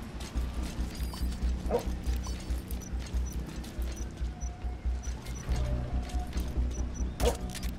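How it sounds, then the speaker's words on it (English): In the Metal Gear Solid V video game, a dog barks a few times over a low, rhythmic mechanical rumble, with a brief bark near the start and another near the end. "Dog."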